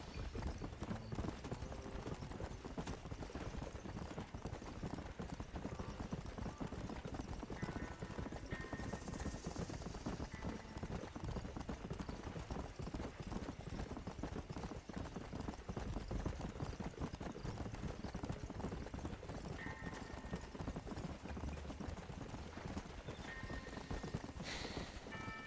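A horse's hooves clip-clop steadily in the Red Dead Redemption video game, a continuous rhythmic trot at moderate level over a dense, noisy background, with no voices.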